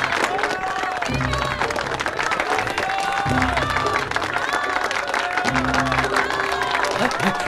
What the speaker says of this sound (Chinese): 下面我们请大家以热烈的掌声来欢送郑士